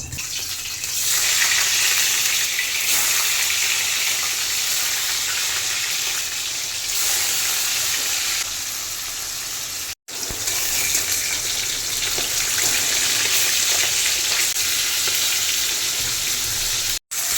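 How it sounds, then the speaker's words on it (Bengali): Fish frying in hot oil gives a loud, continuous close-up sizzle and hiss that holds steady throughout, broken only by two brief cuts. "তেল গরম হয়ে গেছে, এখন মাছটা ভেজে নেব।"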